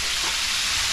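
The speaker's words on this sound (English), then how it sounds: "Just sizzling here" Curry frying in a pot gives a steady, close hiss of sizzling oil with no break, over just under a second, and nobody speaks.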